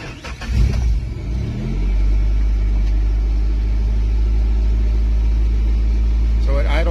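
A Suzuki 2.3 engine swapped into a Geo Tracker idles with a steady, close, low rumble that settles in after a rougher start and holds evenly to the end.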